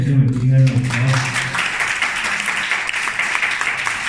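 After talk ends, an audience at a training conference breaks into applause, a dense steady clapping that carries on for several seconds.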